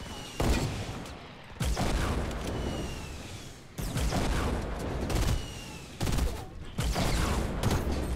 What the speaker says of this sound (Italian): Col pompa sta sparando, davvero